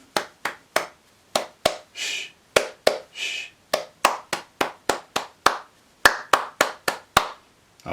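Hands clapping a rhythmic pattern in a quiet room, sharp close claps in uneven groups with short pauses, as part of a music-writing lesson, with a couple of softer breathy sounds between them.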